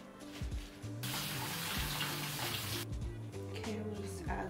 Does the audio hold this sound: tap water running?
yes